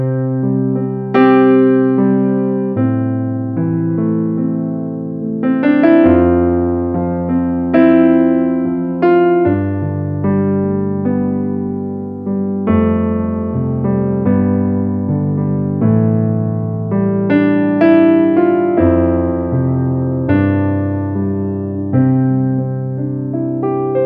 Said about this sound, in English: So this is the sound of piano 1.